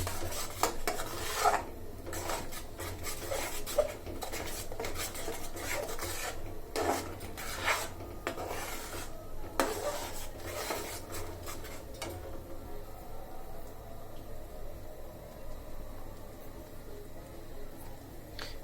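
Continuous scraping and rasping of a utensil stirring a thick beef korma spice mixture in a pan, steady and close, with a faint sizzle underneath.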